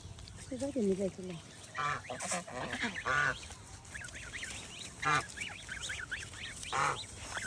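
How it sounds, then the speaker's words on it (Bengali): Ducks quacking in short bursts and honking calls, several birds close by, with some background noise between calls. "হাঁসগুলো কাদের?"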